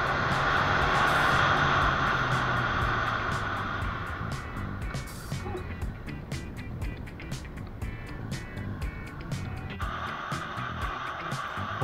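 A car engine climbs a hairpin road under a dashcam, with a steady drone that is strongest in the first few seconds and then settles to a lower, even hum, while wind and road noise run throughout.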